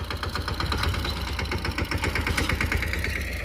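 A Mahindra Yuvraj 215 NXT tractor engine runs steadily at close range on a farm field during bajra sowing, with a rhythmic, even diesel chugging and no talk.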